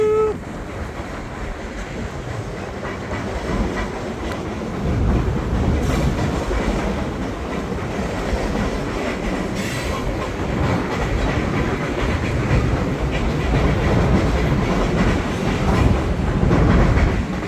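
Train rolling past with a steady broadband rumble and faint clickety-clack over the rails, continuous and fairly close throughout, with no talking.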